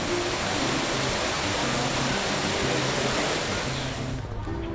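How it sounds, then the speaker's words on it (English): A waterfall roars nearby on a big family field trip, a dense, loud, continuous rushing wash that holds steady throughout with no voices. "Oh, I hear a waterfall."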